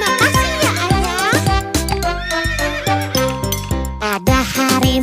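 A horse pulling a delman carriage gives a wavering whinny early on, mixed into loud, steady, rhythmic music that plays throughout.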